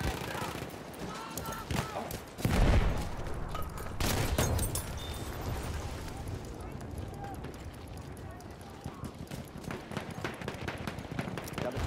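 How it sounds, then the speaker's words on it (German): Enemy machine gun fire in Battlefield 1 at Soissons: bursts of mid-distance automatic fire in the middle of the battle, with a sharp nearby blast and steady combat din, under constant shouted soldier voices. "Feindliches Maschinengewehr!"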